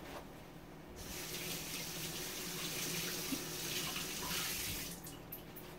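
Tap water runs steadily into a sink while hands are rinsed under it, a close, even splashing rush lasting a few seconds before it stops, with no talking.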